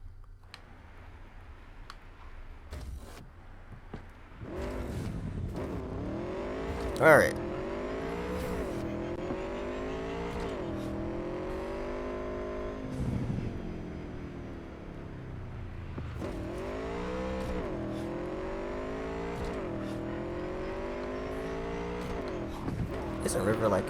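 Motorcycle engine in Cyberpunk 2077 starts up and revs repeatedly as the rider accelerates, pitch climbing and dropping through gear changes, steady and close, with a voice speaking briefly over it.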